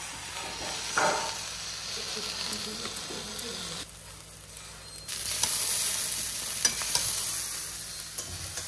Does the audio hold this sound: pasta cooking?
yes